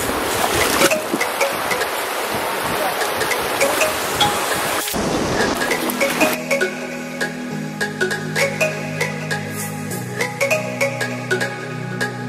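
Shoes sloshed and scrubbed in a cold river in a canyon, with steady close splashing and rushing water for about five seconds before it gives way to quieter ringing tones.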